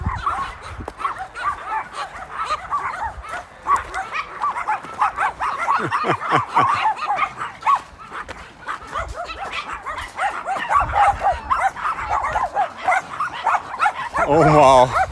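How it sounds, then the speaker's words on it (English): A dog barks, yips and whimpers repeatedly along a walking route in Sweden, fairly close and loud, mixed with people talking nearby. "It's some doggy around."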